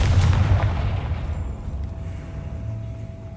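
The Confringo fire spell in Hogwarts Legacy goes off as a deep, booming blast that hits hard at the start and then rumbles away over about three seconds.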